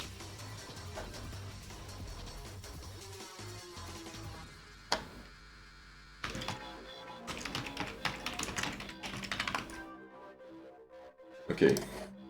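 Fingers tap on a computer keyboard that has been acting up, a fairly faint patter of keystrokes in irregular bursts with pauses, under other background sound.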